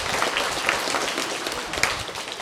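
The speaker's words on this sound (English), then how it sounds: "Let's give Zach a big round of applause." Applause for an honoree at the Iowa Central Hall of Fame ceremony, with many hands clapping steadily and a few sharper, closer claps standing out from the wash.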